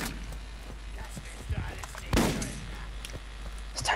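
A shotgun blasts once in the video game Borderlands, a loud, sharp report near the middle over a constant bed of game noise and scattered smaller clicks and impacts.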